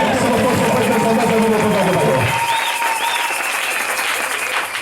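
A church congregation at a Sunday worship service applauds together, loud sustained clapping that tapers off halfway through, leaving softer crowd noise and faint tones behind.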